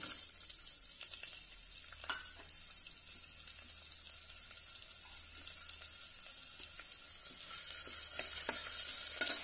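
Sliced onions sizzle in hot oil in a pan with a steady, bright frying hiss. Light, scattered scrapes come from the onions being stirred, and the sizzle grows slightly stronger toward the end.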